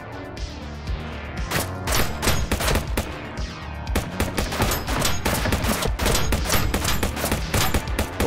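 Enemies shooting guns in the VR shooter Shotwood VR: heavy, continuous rapid-fire volleys of close, loud shots crackle almost without pause, with sharp cracks and thuds layered throughout.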